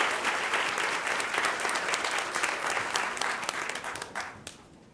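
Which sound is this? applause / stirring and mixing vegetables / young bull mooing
applause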